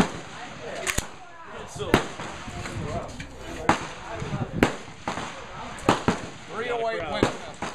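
Sharp, loud gunshots from a CETME battle rifle chambered in .308 Winchester crack out at irregular intervals, roughly eight over several seconds, with people talking between shots outdoors.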